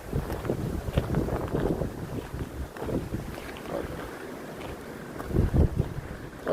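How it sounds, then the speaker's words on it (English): Breezy wind blowing outdoors buffets the microphone in a steady low rumble with gusty surges, close and fairly loud. "Kinda breezy out here."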